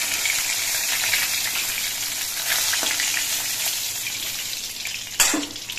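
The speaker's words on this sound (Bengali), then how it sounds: "বাকি মাছগুলো ভেজে নিচ্ছি।" Pieces of rohu fish frying in hot oil, a steady, close sizzle that crackles throughout, with a sharper burst of spattering near the end.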